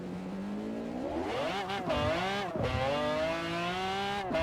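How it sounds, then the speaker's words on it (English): A loud car engine revs up and down close by, its pitch climbing, dipping and rising again with a supercharger-like whine over the roar. "It has a very loud supercharger in it."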